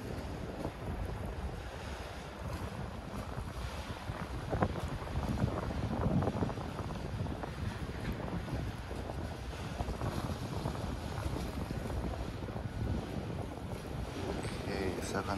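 Strong wind buffeting the microphone at an Osaka waterfront during ultralight lure fishing, a continuous roaring rumble with gusty swells, near and loud, with faint water sounds underneath.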